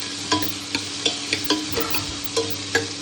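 Sliced onions sizzle steadily in a hot pan, with about eight sharp clinks and scrapes of stirring spaced through the frying.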